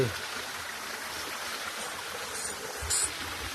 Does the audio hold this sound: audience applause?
no